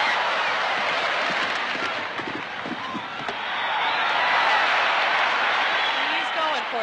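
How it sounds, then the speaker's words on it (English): Crowd at an equestrian Olympic competition, a steady roar of cheering that swells midway and holds, heard at a distance under a commentator's voice. "You can hear the crowds with him."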